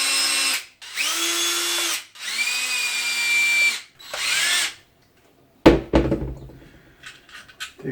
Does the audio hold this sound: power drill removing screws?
yes